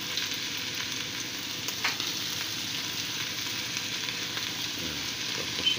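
Onion, carrot, celery and chopped lechon stir-frying together in a pan for lumpia filling, an even, moderately quiet sizzle with faint scraping stirs, steady throughout and without speech.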